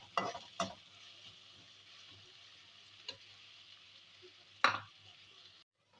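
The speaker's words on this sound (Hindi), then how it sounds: "प्याज हमारे ब्राउन हो चुके हैं" Onions brown in cooking oil in a pot for chicken pulao with a soft, steady sizzle. A few sharp scrapes and taps of a spoon against the pot stand out before the sound cuts off.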